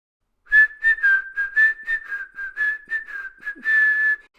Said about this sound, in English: walked into town whistling a happy tune